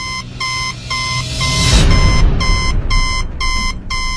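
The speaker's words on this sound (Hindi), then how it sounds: "उसके अंदर एक लाल बत्ती जल रही थी और वो जोर जोर से बीप कर रही थी।" Fingerprint scanner machine sounding a loud, steady series of repeated electronic beeps at an even rhythm, about eight pulses, with a brief burst of broadband noise midway.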